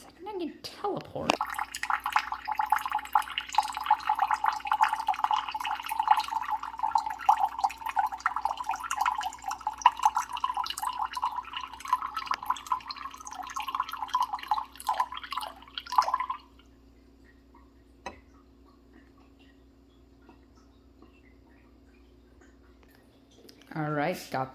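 A faucet pours a steady stream of running water for several seconds, then shuts off, leaving near silence.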